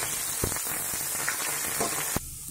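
Cumin and onion fry in hot oil in a pan, a loud continuous sizzle with a few clinks of stirring and a sharp knock near the end.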